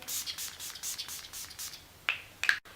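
Several short hissing sprays of a makeup primer spray in quick succession, fairly close, with a couple of sharper clicks near the end.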